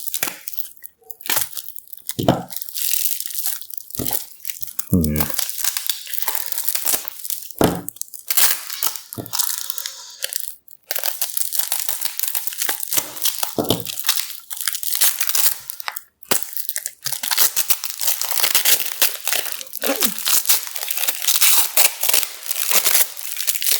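A heavily taped-up package being torn open, loud close ripping of tape and crinkling cardboard in repeated bursts with short pauses between, no talking.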